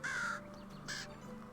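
Crows in Medieval Dynasty give two harsh caws, the first longer and the second shorter about half a second later, faint and distant over a soft outdoor ambient hum with no speech.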